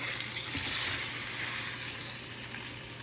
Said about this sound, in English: we've pretty much seared the entire brisket